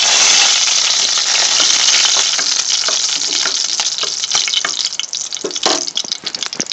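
Whole spices sizzle loudly and steadily in hot oil in a pan, a bright, close frying hiss that crackles and pops more unevenly toward the end.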